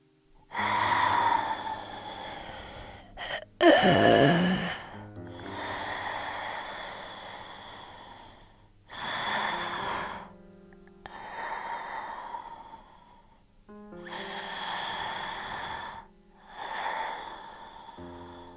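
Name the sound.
heavy breathing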